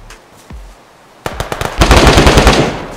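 Rapid automatic gunfire in the video game DayZ: a few separate loud shots, then a dense rattling burst of closely spaced reports that fades slightly toward the end, with no talking.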